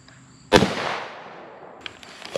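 A single sharp shot from a Savage Model 110 Precision rifle in 6.5 Creedmoor fired at about 10 yards, a loud close crack followed by a long fading echo, with small clicks afterward.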